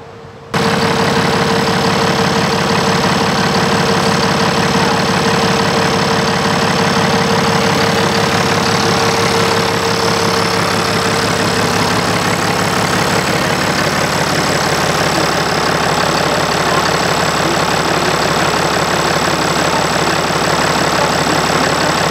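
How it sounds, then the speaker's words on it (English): An International 666 tractor engine runs at a steady idle, a continuous mid-pitched chugging drone that stays loud and unchanging throughout. "So the tractor you just saw, the International 666, we have 2 Internationals."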